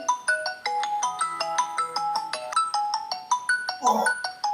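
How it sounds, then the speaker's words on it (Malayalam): A mobile phone ringtone plays a bright, repeating melodic pattern of short tones, fairly clear and steady. A voice briefly breaks in near the end. "എവിടുന്ന് എന്റെ ഫോൺ ബെല്ലടിക്കുന്നത്?"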